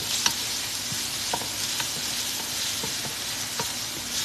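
Garlic and onions fry in a pot for native chicken lugaw, giving a constant close sizzle with several light clicks and taps of a stirring utensil.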